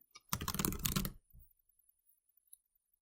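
A short flurry of keyboard typing as a notebook name is entered in OneNote, a dense burst of key clicks lasting under a second, then a few faint scattered taps in a quiet room.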